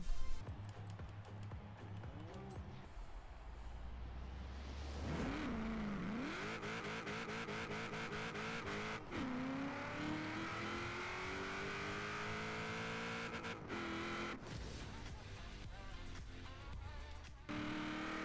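Ford RS1800 rally car with a 1000hp engine in Forza Horizon 4, revving hard and climbing through gears with rising whine and bursts of acceleration, loud and sustained for most of the stretch, with brief drops between pulls.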